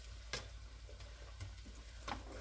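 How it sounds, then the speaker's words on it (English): Sofrito and vegetables stir-fry in oil for arroz con pollo, a soft, continuous sizzle broken by a few sharp clicks and scrapes of stirring, with no voices. "there's the sofrito and the vegetables stir frying"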